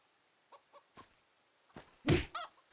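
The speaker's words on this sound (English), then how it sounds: "We're gonna slay some chickens to start the stream here." Chickens in the video game Divinity 2 Ego Draconis clucking: several short, soft clucks spaced apart, then a louder, close squawking cluck near the end, with no talk.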